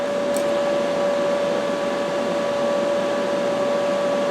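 Pulse MIG welding with a YesWelder YWM 211P, a steady loud electrical buzz with a sustained tonal hum running unbroken throughout, no talking.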